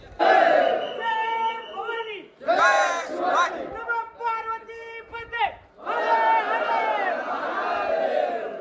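A dense festival crowd at the Shivrajyabhishek celebration in 2026 roars with loud chanting and battle-cry shouts in surging bursts, briefly dipping twice before swelling again, close and overwhelming.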